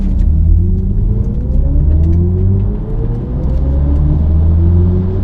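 Hans Zimmer's artificial drive sound in an electric BMW i4 M50, heard as several rising synthetic tones climbing together over a deep rumble while the car pulls away gently.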